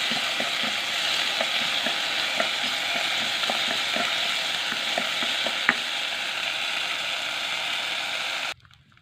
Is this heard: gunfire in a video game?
no